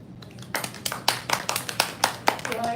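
Applause from a small audience at a poetry reading, a scattered patter of claps that swells after a quiet start and holds steady with distinct individual hand strikes.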